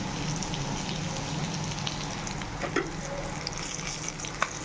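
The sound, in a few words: fish frying in a pan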